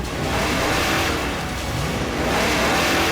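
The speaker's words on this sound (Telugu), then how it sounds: "త్వరగా కార్ స్టార్ట్ చేయి." A car engine revving hard during a hurried getaway, loud and sustained with a steady mid-range roar and no talk over it.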